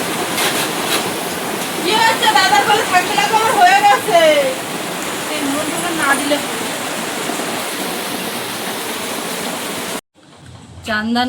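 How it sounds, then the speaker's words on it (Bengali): Steady, dense rain hisses throughout, loud and close, with a voice speaking briefly over it early on before the sound cuts out near the end. "আজকে এই বৃষ্টি টিষ্টি হচ্ছে"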